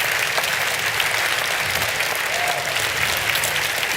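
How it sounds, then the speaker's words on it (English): An audience bursts into sustained, dense applause for Richard Dawkins at a live conversation event with Michael Shermer, clapping steadily and loudly throughout without letting up. "Let's give him a round of applause"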